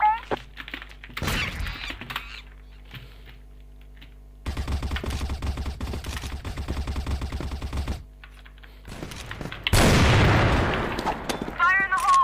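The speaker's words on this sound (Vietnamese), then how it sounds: "Lựu đạn nè, né đi" A grenade explodes in a video game: a loud, broad burst rings out near the end, after stretches of gameplay noise, rapid clicking and gunfire-like bursts, with players talking over it.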